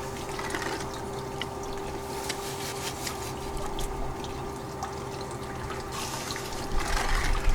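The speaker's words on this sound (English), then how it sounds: "This way, the water erodes the dirt around the scoop and down to the funnel" Water trickles and pours through paydirt into a GOLDROP gold-panning funnel, a faint continuous dribbling flow with small splashes that grows slightly louder at the end.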